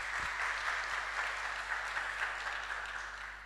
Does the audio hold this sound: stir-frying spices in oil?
no